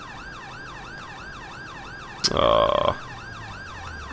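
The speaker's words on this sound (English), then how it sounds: "Cop has put sirens on, just kind of completely blown our cover." Police car siren in the video game GTA 5 wails in a steady, even up-and-down cycle from start to finish, briefly interrupted by a sharp burst of louder noise, with a short voice exclamation over it.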